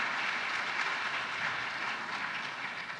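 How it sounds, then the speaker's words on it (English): An audience gives a round of applause for a speaker at a university town hall, a continuous, fairly distant wash of clapping that fades slightly toward the end. "Can we give Enoch a round of applause?"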